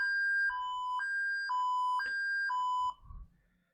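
A SCADA software alarm beeping on its own, a steady two-tone electronic pattern alternating every half second for about three seconds before cutting off, leaving faint low rustling.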